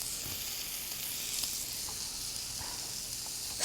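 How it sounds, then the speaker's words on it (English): Zucchini and meat sauté in a pan with a steady, soft hiss of sizzling oil, close and even, with a few faint stirring touches and no talking. "saute a little bit"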